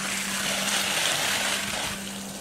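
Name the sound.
water gushing out of the end of a pool vacuum hose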